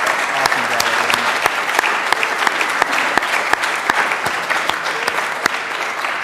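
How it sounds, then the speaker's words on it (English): A large evening audience applauds its speakers with sustained, dense clapping. Sharp individual claps stand out close by throughout, and there is no speech. "can we get another round of applause for all of our great speakers tonight?"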